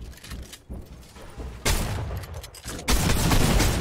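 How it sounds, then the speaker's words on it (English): Heavy gunfire from a drum-fed shotgun in a video game: repeated loud blasts that come in surges, with a sharp jump in volume partway through and dense firing to the end. "Oh no, the drum shotgun."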